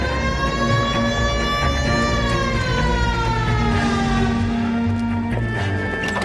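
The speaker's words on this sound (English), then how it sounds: "Hit the siren." Police car siren in the video game LA Noire, a loud continuous wailing tone sliding up and down steadily with no speech over it.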